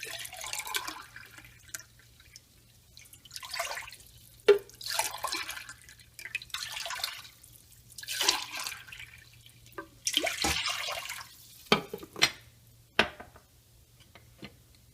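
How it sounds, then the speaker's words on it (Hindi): Water is poured into a thick-bottomed pot while making rice papad, with intermittent splashing pours and drips in short bursts and a few sharp clinks, fairly quiet and close. "अब हम इसमें 3 गिलास पानी डालते हैं।"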